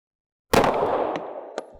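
A suppressed gunshot fired with normal-speed S&B ammunition: one sudden loud crack after silence, trailing into a decaying outdoor echo, with a faint second pop near the end.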